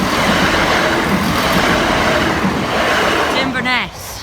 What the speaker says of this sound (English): I will film the Virgin Trains East Coast. Here it is.